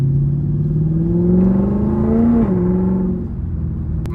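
A Lexus IS-F engine revs up steadily in a rising whine, holding high before dropping back and settling into a lower idle-like rumble, loud and close with no talking.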